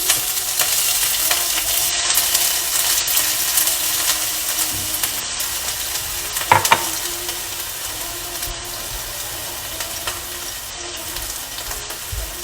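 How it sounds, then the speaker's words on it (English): Onions frying in a pan on the stove for stuffed Mexican peppers, a continuous loud crackling sizzle with a brief clatter of a utensil midway, close up and no voices. "So we are going to add to our pan our onions"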